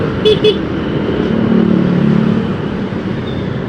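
Sunday traffic jam on a Bandung road in Indonesia, with steady car and motorcycle engine rumble close by, a couple of short horn toots near the start and a brief rising engine note in the middle.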